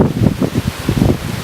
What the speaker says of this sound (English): it's mad windy out here